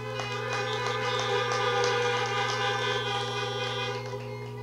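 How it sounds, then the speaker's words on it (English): Steady, sustained car horns blare together in a continuous drone at an outdoor drive-in graduation ceremony, layered tones holding for the whole stretch without a break. "Please join me in giving them a round of honks."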